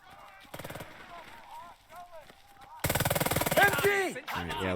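Machine gun fire from a Burden of Command battle comes as two bursts of rapid, evenly spaced shots, a short one early and a louder sustained one later, with voices talking over and between them.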